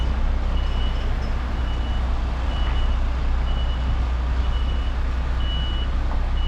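A lorrry truck reverses a trailer while collecting around St Helens, its reversing alarm beeping in a steady repeated pattern over a constant low diesel engine rumble, close and continuous throughout.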